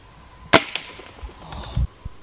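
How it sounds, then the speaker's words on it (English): A Walther LGU spring airgun fires once at a pigeon about 25 yards away from a hunting hide outdoors: one sharp, close crack, then a few faint thuds and knocks in the quiet that follows. "So I tried to thread the pellet through the middle for a head or neck shot."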